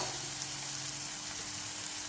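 Chopped onions frying until translucent in a pan, a steady, even sizzle held at a moderate level throughout with no talking.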